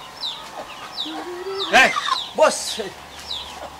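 A hen clucks in short, scattered bursts close by, with a voice talking over and between the calls.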